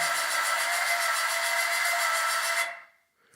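Small motor in an electronics motor-control project driving upward toward a set position, a steady whirring drone of under three seconds that stops abruptly.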